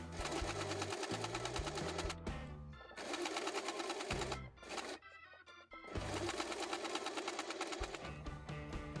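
Sewing machine stitching strips of black fabric onto an apron-style bib, running in steady loud bursts with two short pauses between seams.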